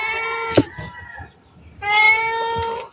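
Hungry cat meowing twice in a rural Bicol kitchen, a short cry followed by a longer drawn-out meow, close and clear, with faint kitchen clatter in between.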